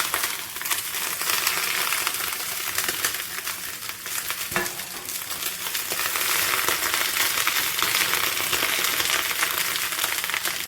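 Fish laid on turmeric leaves on an oiled tawa fries with a steady, loud crackling sizzle, with one sharp clink partway through and no talking.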